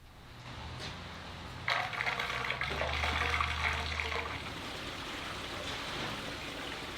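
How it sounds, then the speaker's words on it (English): Water rushes and gurgles steadily as it drains from a narrowboat dry dock back into the canal through a trapdoor, a continuous wash with a low rumble that eases off after a few seconds. "Water was then drained from the dry dock back into the canal via a trapdoor."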